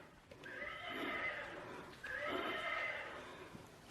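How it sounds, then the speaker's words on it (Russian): A horse neighs twice in a dark tunnel setting, two long whinnies of about 1.5 seconds each with a short gap between them. It is fairly near and clear against quiet background noise, with no talk. "Эта лошадь движется."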